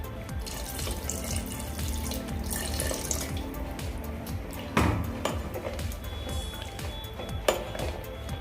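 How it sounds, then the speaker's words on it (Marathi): Water poured into a pressure cooker of soya chunk biryani, a continuous close splashing pour with occasional metallic pings and clinks. "आपण यामध्ये तीन ग्लास पाणी घातलेलं आहे"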